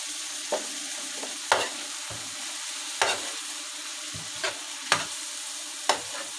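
Kofta meatballs fry in a pan with a constant soft sizzle, broken by half a dozen sharp clinks and scrapes as a utensil turns them.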